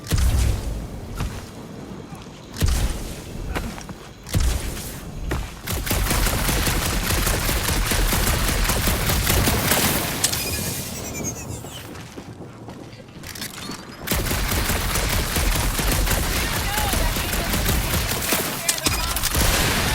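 Bursts of gunfire from the video game Marvel's Guardians of the Galaxy, with loud rapid volleys, short pauses and mechanical clatter, and game voices talking at times.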